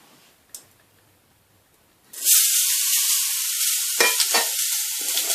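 Grated beetroot drops into a hot pan with a sudden loud sizzle, then keeps frying in a steady close hiss while it is stirred, after a quiet start with a single tap.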